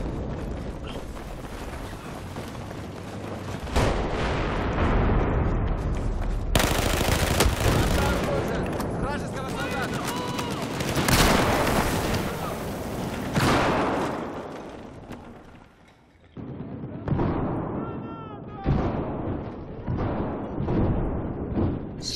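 Grenade blasts and rapid gunfire in a Battlefield 4 close-quarters Conquest match on Zavod 311, repeated loud bursts and booms over about twenty seconds with a brief lull near the middle.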